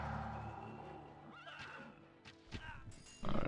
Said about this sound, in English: Horse archers, mostly horse archers.